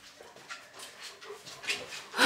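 A dog whimpers and gives small yips in a quiet indoor room, a series of soft, breathy whines rising toward a louder cry at the end, close to the listener with no talking over it.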